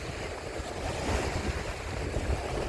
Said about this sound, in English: Wind picks up right as we're coming back.